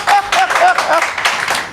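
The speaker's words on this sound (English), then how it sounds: "Audience applause, there we go." An audience claps briefly at a 70.3 Ironman World Championship gathering in Nice, France. The short burst of scattered applause is close and fairly loud, with voices mixed in.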